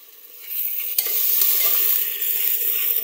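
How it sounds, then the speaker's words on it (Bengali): Ground spice paste of nutmeg, mace and garam masala fries in oil with beef, giving a loud steady sizzle with scraping stirs and occasional utensil knocks against the pot. "এগুলা তেলে ভাজতে থাকবো যতক্ষণ না পর্যন্ত এগুলোর উপরে তেল ভেসে না ওঠে।"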